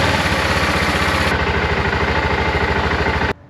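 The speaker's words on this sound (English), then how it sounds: "Now we're going to run the bike for about 30 seconds." A BMW F650GS Dakar motorcycle engine idling after an oil change, a steady close rhythmic thrum that runs evenly and then cuts off abruptly near the end.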